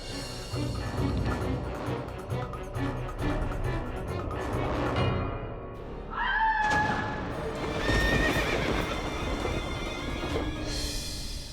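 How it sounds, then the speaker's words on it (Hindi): A horse whinnies loudly with a rising, descending cry while hooves clip-clop, set within a tense courtroom drama soundtrack with a crash and busy background sound. "उसका घोड़ा।"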